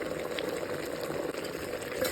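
Mutton curry simmers in a pot in its own released water, giving a faint, steady bubbling hiss with small pops that runs continuously throughout.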